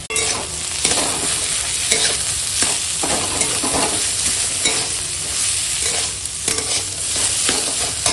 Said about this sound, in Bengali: এই ম্যাশ করা আলু দিয়ে দিলাম এবার দিয়ে দেবো ধনে পাতা কুচি দিয়ে ভালো করে মাখিয়ে নেবো